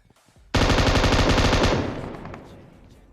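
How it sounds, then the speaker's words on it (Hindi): Automatic gunfire in a battle royale video game rattles out in a loud, rapid, sustained burst for over a second, then fades into a trailing echo. "अब आगे गोली चलनी होती है"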